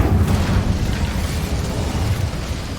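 The Incendio fire spell in the Hogwarts Legacy video game, heard as a loud, dense fiery whoosh and roar with deep rumbling that holds steady for a few seconds with no voices.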